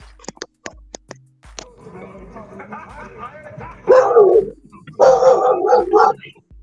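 Dog barks in a few sharp, rapid yips at the start, then louder barking and whimpering bursts cut through a person talking over a boxing livestream.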